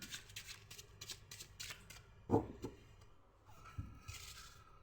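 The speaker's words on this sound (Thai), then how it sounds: "ขอเลือกไพ่สิบใบ" Playing cards handled and picked out for a reading, a run of crisp riffling flicks at the start followed by scattered slides, taps and soft scraping of cards, close and fairly quiet.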